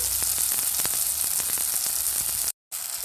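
A paste of onion, mustard and poppy seed fries in mustard oil, giving a loud, dense, steady sizzle close up with faint stirring taps. It cuts out briefly near the end, then resumes.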